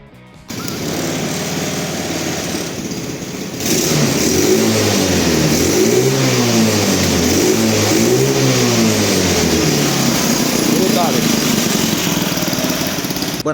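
A King Road 250 buggy engine with a freshly tuned carburetor idles, then revs up in repeated rising and falling bursts, loud and close, with no talking.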